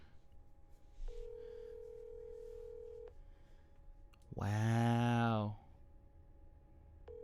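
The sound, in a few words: phone ringing on an outgoing call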